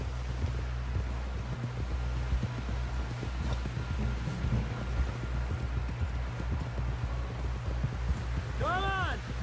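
Horse hooves clip-clopping at a steady walking pace in the Red Dead Redemption 2 video game, with a low rumbling drone underneath and a brief tonal game cue near the end.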